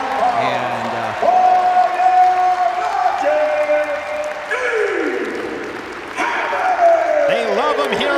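A home crowd in Madison cheers and applauds a takedown at a Big Ten college wrestling dual between Ohio State and Wisconsin, a loud sustained roar of clapping and whoops that swells again near the end, with commentators talking over it.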